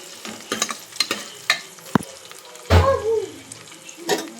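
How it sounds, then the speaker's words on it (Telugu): Small onions frying in a pan for tomato pappu, with sharp intermittent stirring clatters and a burst of sizzle near the middle, loud and close, with some watery sounds mixed in. "ఈ చిన్నులపాయ బాగా వేగడం వల్ల స్మెల్ అనేది చాలా బాగుంటుంది"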